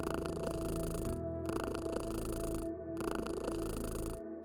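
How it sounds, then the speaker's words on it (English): A cat purrs steadily and softly in a continuous rumbling rhythm, with no voices, in the point-and-click video game Kathy Rain 2. "The purring cat noise is so good."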